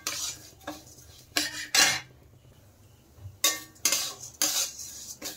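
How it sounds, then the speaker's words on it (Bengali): Moong dal frying in ghee in a pot, marked by several sharp bursts of a metal spoon scraping and clattering against the pot between quieter pauses, close by with no speech. "আর ডালগুলো আমি ঘিয়ে ভেজে নিচ্ছি।"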